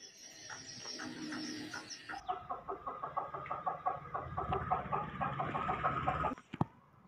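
A rooster crows and clucks near a farmyard where hens roam with six chicks, a rapid run of repeated call notes with other bird chatter and a brief bump near the end.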